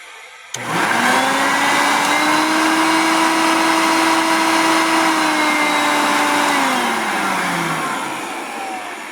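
Close, loud hum of a bagged Hoover vacuum cleaner motor kicking on suddenly and running steadily, its whine holding pitch before sagging and winding down near the end, with no voices.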